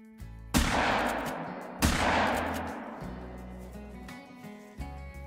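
Two loud rifle gunshots in the Call of the Wild hunting game, fired at European rabbits, each with a long booming decay, and faint ambient music in the background.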